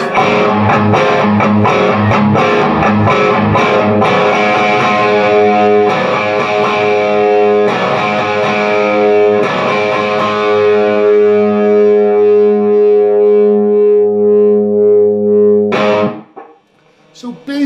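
Loud, heavily distorted electric guitar riff played continuously with steady chugging notes, cutting off abruptly near the end.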